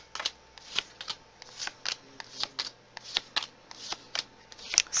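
Tarot cards are shuffled and laid down one after another, a crisp series of close riffling snaps and slaps repeating at an uneven rhythm, with no talking.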